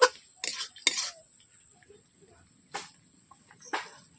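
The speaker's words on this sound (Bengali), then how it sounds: "আলু দিয়ে আমি নেড়ে নেব, কষে নেব আলুগুলোকে" Potatoes are stirred and fried in a pan for a paneer curry: a few brief, quiet scrapes and clatters of a spatula, separated by near silence over a steady thin high whine.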